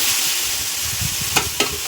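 Onions and peanuts fry in a pan with dill greens, a steady close hiss of sizzling oil with two sharp clicks of a spoon near the end, and no voices.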